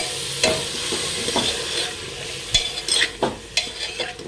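Pav bhaji vegetables stirred in a pan on the stove, with a low sizzle under a string of irregular scraping and knocking strokes of the spoon that grow busier toward the end.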